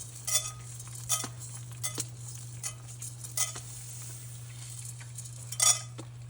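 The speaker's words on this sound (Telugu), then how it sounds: "ఆయిల్ కొంచెం హీట్ అయ్యాక మినప్పప్పు," A spoon stirs urad dal frying in heated oil in a pan, with scattered scraping clinks and faint sizzle over a steady hum, close and fairly quiet, no talk.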